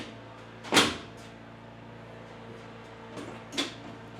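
A Holden HG car door opens in a workshop with the car raised on blocks, one sharp loud clunk of the latch followed later by softer knocks and a second fainter thud, with a low background hum.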